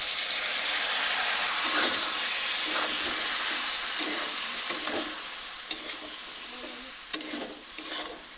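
Spices of turmeric, chili, cumin and coriander powder sizzle and hiss steadily in a pan after water is poured in, a continuous frying noise with occasional stirring clicks and scrapes.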